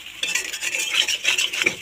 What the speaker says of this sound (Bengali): সুন্দর করে নাড়াচাড়া দিতে হবে